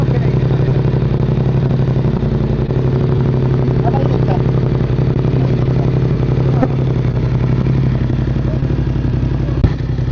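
A Benelli TRK 502X motorcycle engine idles and runs close by, a steady, loud, throbbing rumble with some clatter and a couple of sharp clicks.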